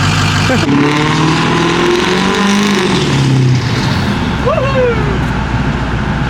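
A 6.0 Powerstroke diesel truck drives around a racetrack, its engine droning and shifting pitch as it revs, with a rising whine near the end and voices talking over the cabin noise.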